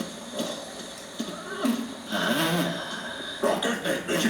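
A horse's hooves clatter in uneven bursts while it lets out a few short whinnies, fairly close and loud over a rough outdoor background.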